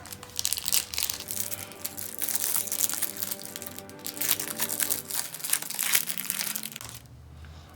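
Foil packs of 1996-97 Skybox Z-Force basketball cards are torn open and crumpled up close, with bursts of loud crinkling and tearing that rise and fall over several seconds before cutting out near the end.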